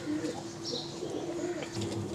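A pair of black Lakka pigeons coo softly and repeatedly at a busy pigeon market, their low, murmuring calls set against steady background bustle.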